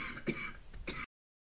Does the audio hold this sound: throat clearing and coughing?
yes